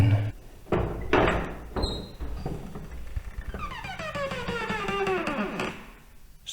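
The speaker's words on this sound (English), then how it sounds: "squeaky door" A squeaky church door in a Peak District village, with a bell tower above, opens with a long creaking squeal that drifts down in pitch, loud and close, after a few knocks and thuds.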